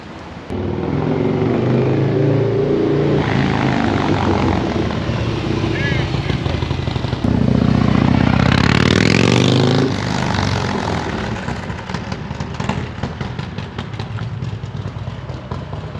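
A Harley-Davidson motorcycle rides past with a loud engine drone that rises to a closer, heavier roar and then fades, while someone talks over it.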